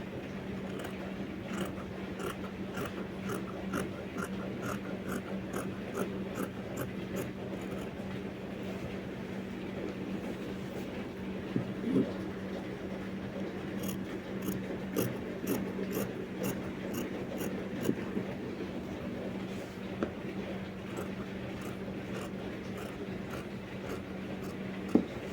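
Scissors cutting fabric for a shirt dress, a quiet, rhythmic run of small snips under a low steady hum, with a few louder clicks and taps near the end.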